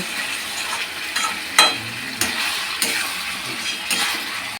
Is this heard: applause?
no